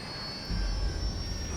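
Jet airplane engine in GTA V, a steady high whine over a low rumble that swells louder partway through, continuous and fairly close.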